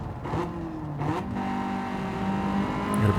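A lightweight front-wheel-drive Honda with a VTEC engine revs hard on the Nurburgring, its steady, rising engine note holding loud and close throughout without speech.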